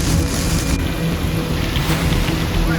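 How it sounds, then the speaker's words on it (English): Heavy rain pours down in Traveler's Rest during a flash-flood storm, with runoff water rushing and forming little waterfalls by a small branch; a loud, steady broadband roar of downpour and flowing water, close and continuous, with no voices. "Some of the runoff starting to accelerate here. Blinding rain in Traveler's Rest."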